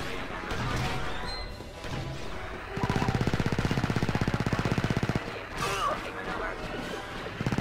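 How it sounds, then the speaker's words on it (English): Gunfire from the Star Wars Battlefront 2 video game, battle of Mygeeto on Xbox 360: a loud burst of rapid automatic fire lasting a couple of seconds, with scattered shots and game noise around it. "Who's shooting at me?"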